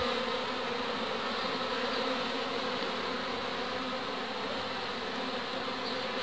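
Honey bees buzz steadily around an open wooden hive box being split with frames from different colonies, a dense continuous hum close to the listener with no talking.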